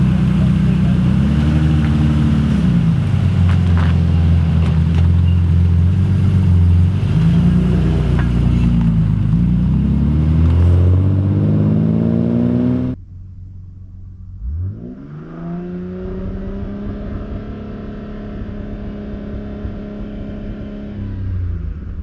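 An individual-throttle-body Toyota MK4 Supra drives and revs at the Oulton Park circuit, its engine loud and close, climbing and falling in pitch through repeated revs before a sudden cut, then building again into another rising rev.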